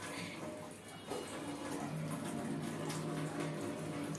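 Water drains out of a water purifier that is being taken apart for cleaning, a steady splashing trickle with a faint surge near the start that carries on evenly.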